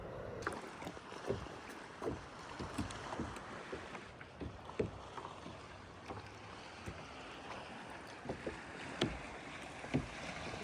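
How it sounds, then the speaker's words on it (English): A kayak paddles out on the sea off a central Baja beach on a calm morning: steady paddle strokes dip and splash in a loose rhythm, close to the microphone over faint wind and open-water ambience. "I think we're gonna paddle out to one of these islands out here this morning"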